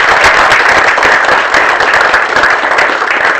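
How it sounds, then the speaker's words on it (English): At an innovation prize-giving ceremony, an audience applauds a professor, a loud, close wash of many hands clapping steadily. "we need to give Professor Sebastiani a round of applause"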